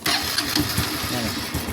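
A Honda Wave motorcycle with a misfire at high RPM starts up nearby, a short crank that catches into a rough mid-pitched idle, with a voice over it.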